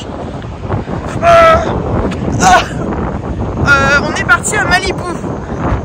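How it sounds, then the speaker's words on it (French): Strong wind at Malibu buffets the microphone in a continuous rough rumble, with gusts rising and falling beneath a person speaking French throughout. "Il fait très venteux. Très venteux."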